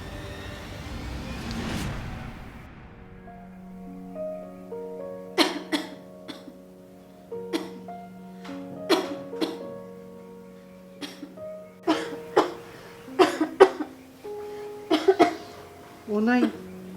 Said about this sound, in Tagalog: mukhang hindi na maganda yung lagay ng ubo nyo ah